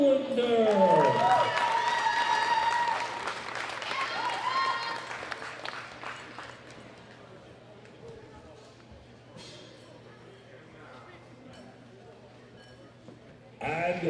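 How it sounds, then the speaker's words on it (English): A crowd applauds powerlifting medal winners at the 2018 World Classic Powerlifting Championships, women's open 72 kg class. The clapping is loudest early under a voice over the PA, then fades into a quiet hall before a brief burst at the end. "a big round of applause for Raya Steele"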